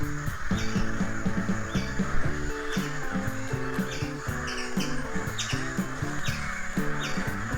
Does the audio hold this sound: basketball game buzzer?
no